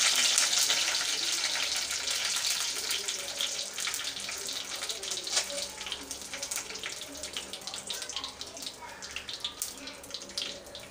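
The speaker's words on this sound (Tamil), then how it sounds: "கடுகு நல்லா பொரிஞ்சிச்சு" Mustard seeds crackle and pop in hot oil for a Tamil arai keerai puli kadayal tempering, a dense, steady spitting sizzle that starts loud and thins slightly over time, with no voice over it.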